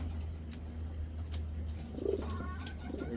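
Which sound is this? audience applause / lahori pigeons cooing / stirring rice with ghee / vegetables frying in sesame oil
lahori pigeons cooing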